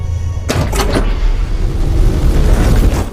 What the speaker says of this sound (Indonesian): Tiba-tiba saja pintu rumah tersebut terbuka dengan sendirinya.